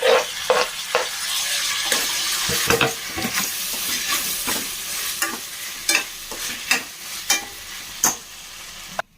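Potatoes, peas and tomatoes frying in a pan, with a soft continuous sizzle broken by repeated spatula scrapes and taps at an irregular rhythm.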